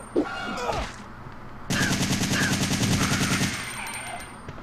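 Carlos firing an assault rifle in Resident Evil 3 on GameCube: a sustained, loud burst of rapid automatic gunfire lasting a couple of seconds, preceded by a brief sharp noise and followed by game ambience.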